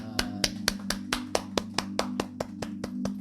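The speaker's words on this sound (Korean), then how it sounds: "우리 하나님께 감사의 박수 올리겠습니다" Rhythmic hand claps from a church congregation, about thirteen evenly spaced beats, over a steady low musical hum; a group clapping in time rather than scattered applause.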